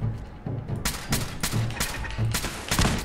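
Turret gunfire in Fallout 4's Nuka-World, rapid bursts of automatic shots repeating in loud clusters, close and continuous across the moment with no talk over it.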